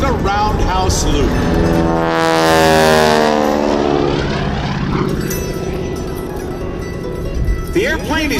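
A Stearman biplane's propeller engine roars steadily overhead during a roundhouse loop at an airshow at NAS Jacksonville, its pitch sweeping as it climbs and turns, loud and continuous.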